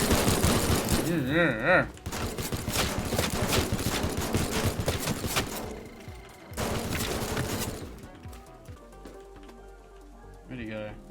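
Gunfire in the video game Teardown: dense rapid bursts of automatic fire that stop and start across the stretch, with a person talking briefly between bursts.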